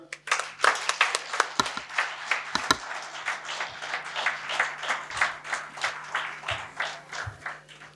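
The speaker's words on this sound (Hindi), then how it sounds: "तालियां।" Audience applause at a gathering honouring a guest: a fairly close, moderately loud patter of many hands clapping, with a few sharp individual claps standing out, continuing steadily throughout.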